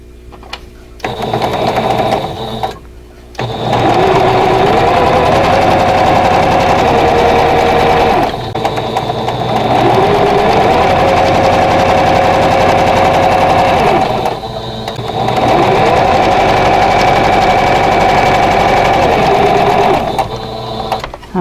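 A sewing machine stitches quilt block pieces for a vintage Broken Wheel quilt block in long, loud, steady runs, its motor whirring close by, with brief stops and pitch shifts between the seams.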